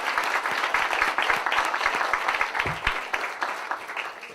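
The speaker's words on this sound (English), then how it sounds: "Could we have a round of applause, please, for Ambassador Pinelo and for Ambassador Barco?" Round of applause from an audience for two ambassadors at a Summit of the Americas preview event, steady moderate clapping throughout with faint voices mixed underneath.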